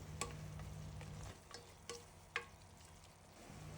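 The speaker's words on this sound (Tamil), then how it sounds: "இப்போ அதையும் சேர்த்துட்டு வதக்கி விடலாம்." A handful of mint and coriander leaves sauté in a hot pan, a quiet steady sizzle broken by a few sharp spoon taps and stirring scrapes against the pan, no talk.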